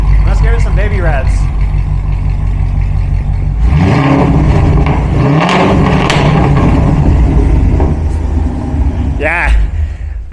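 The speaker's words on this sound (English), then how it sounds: "Let's give it some baby revs." A Corvette engine idles loudly with a deep rumble, then is revved in a few short blips that rise and fall in pitch, close to the listener. Voices can be heard over the engine noise.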